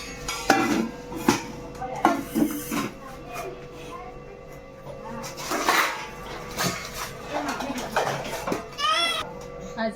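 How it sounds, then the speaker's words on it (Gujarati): Household utensils, pots and dishes clattering and clinking at close range during home cleaning, with irregular bursts of metal knocks and scrapes, while voices talk intermittently. "કેટલા તો વાસણ છે"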